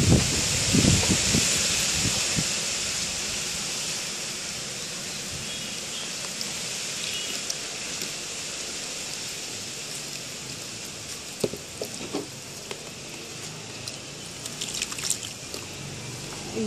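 Water trickles and patters steadily onto soil in a terrace-garden pot of fenugreek, with soft rustling and a few brief clicks, continuous for the whole stretch.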